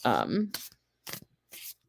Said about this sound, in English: I'm going to shuffle the cards a little bit.